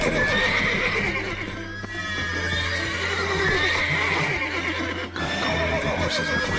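Horses in The Witcher 3 whinny loudly and close by while their hooves clop in an uneven rhythm, with several overlapping neighs and no talk.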